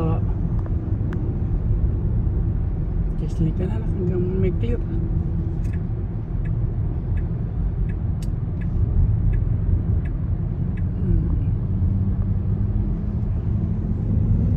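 San Diego road traffic rolls past as a steady low rumble of cars heard from inside a moving vehicle, with scattered ticks and someone talking over it.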